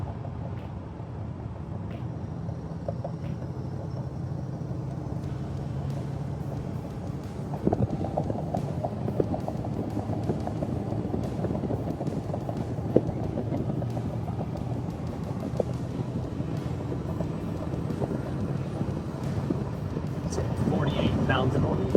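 A 1,000 hp 6.4 Powerstroke diesel truck cruises down the freeway at low RPM, giving a steady low rumble mixed with road and wind noise that grows louder and rougher after the first few seconds.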